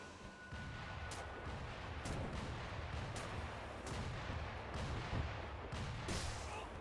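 Heavy gunfire in the video game Sekiro, with many bullets fired in repeated sharp cracks and bursts over a constant rumbling battle bed, moderately loud and continuous.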